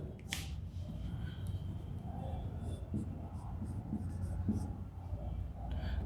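A pen or chalk scratches out mathematical notation during an integration lesson, a faint continuous scribbling close by with light background hiss.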